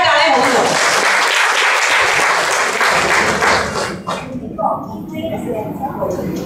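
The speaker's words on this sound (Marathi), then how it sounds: "जोरदार टाळ्या होऊ नको" Dense applause from a seated audience at a Tilgul gathering, steady and loud for about four seconds, then thinning into scattered claps and murmuring voices.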